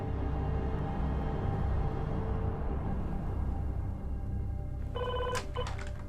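Telephone ringing, a few sharp bell-like trills near the end, fairly faint and rising out of a dense, steady background of music or room noise.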